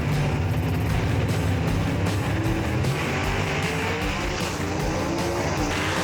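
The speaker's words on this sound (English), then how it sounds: "But no problems at all for either car right there as they go straight down the racetrack" Two gasser drag race cars roar down a racetrack after a rain delay, with a loud, sustained engine howl and some tire noise that rises and shifts as they speed away.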